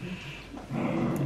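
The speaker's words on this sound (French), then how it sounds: "Elle est en train de lui aboyer dessus et de l'attaquer parce qu'il veut sortir." A dog growls and makes low barking sounds at another dog, faint at first and then louder and steadier toward the end.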